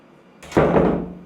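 The door of a separate toilet cubicle in a hotel bathroom swings open, a single close creak and thump after a brief quiet start, trailing off with no talk.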